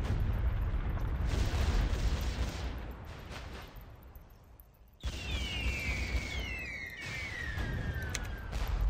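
Bomber squadron attack explosions in the naval strategy video game Teitoku no Ketsudan 4 come as a continuous loud roar and rumble of blasts, which cuts out and then returns with whistling falling tones and dense booming, with no talk.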